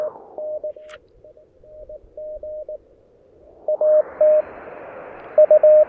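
Shortwave radio receiver audio while tuning across the 40 meter band: steady background hiss with repeated beeping carrier tones and Morse-like keyed signals that come and go, the noise floor widening partway through as a variable filter opens up.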